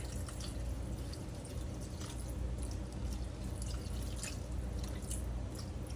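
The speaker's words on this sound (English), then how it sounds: "I'm going to put some more water in." Water splashes and trickles into a pot in a continuous close pour, with small drips and bubbling through the whole stretch.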